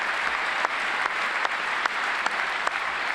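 Sustained applause fills a chamber at the State of the Union address, steady and dense with a few sharper claps and brief crowd murmurs standing out, no speech over it.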